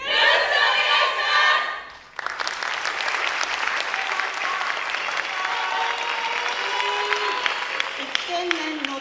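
Audience applause rises at a yosakoi dance team's 20th-anniversary performance just before the final dance, a dense, steady wash of many hands clapping that carries on for several seconds, preceded by a brief burst of other sound.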